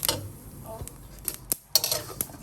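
Something dry-roasting in a pan over medium heat, stirred with a utensil: light scraping, clicks and small taps against the pan in an irregular rhythm, faint and close, with no talking.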